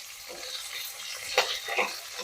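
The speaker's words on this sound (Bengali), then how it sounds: "দেখো লঙ্কাগুলো ভাজা হয়ে গেছে" Slit green chillies fry in hot oil with a soft, continuous sizzle, broken by a couple of brief stirring scrapes, all close and fairly quiet.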